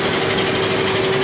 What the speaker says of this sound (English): First time cutting Coosa with this new Makita